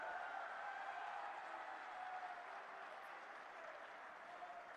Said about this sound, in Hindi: जोरदार तालियों से अपने प्रिय नेता का स्वागत करिए